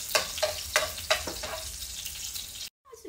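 Sliced onion hits a hot wok and sizzles, with several quick stirring scrapes and clacks over a steady frying hiss, close and moderately loud. It cuts off abruptly near the end, then a faint noise follows.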